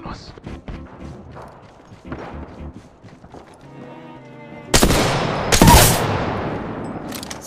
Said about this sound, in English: Ferguson, a second squad is firing on us